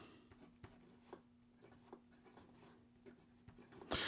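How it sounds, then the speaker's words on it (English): A Skogsy Cholla Micarta fountain pen with a medium stainless steel nib writing on paper, faint soft scratches in short irregular strokes, close up and quiet, with a steady low hum underneath and a louder rustle at the very end. "Here we go with the writing sample for the Skogsy."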